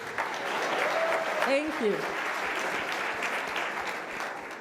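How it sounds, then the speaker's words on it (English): A crowd at a Kinyarwanda-French-English public dialogue event claps steadily and loudly throughout, a dense sustained applause, with a brief spoken thanks near the start. "So, yes, you can clap."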